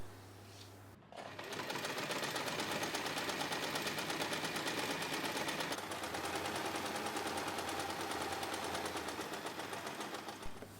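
Sewing machine stitching three edges of a fabric phone pouch pocket, a steady rapid needle clatter running near and continuous for most of the span after a brief quiet start, with no talk.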